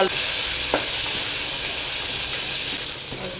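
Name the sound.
onion frying in oil with cumin and bay leaf tempering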